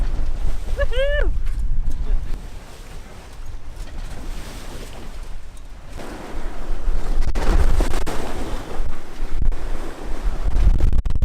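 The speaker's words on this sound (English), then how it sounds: "The bow pretty much goes in the water with the waves." Waves wash and slap against the bow of a sailboat under strong wind buffeting the microphone, with a brief squeal early on and surging rushes of water growing louder toward the end.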